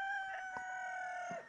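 A León rooster, a breed raised for fishing-fly feathers, crows one long, tonal call held over the whole stretch, moderately distant and fairly quiet, with no voices.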